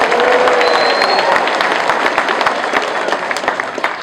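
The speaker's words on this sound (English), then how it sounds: "Give yourselves a big round of applause for being so great" A crowd of theme park pass holders applauds loudly at a ride announcement event, dense sustained clapping mixed with scattered cheers that gradually tapers off.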